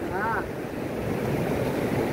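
Waves wash on a sea shore as a steady, rushing surf backed by wind noise across the microphone, continuous and fairly loud throughout.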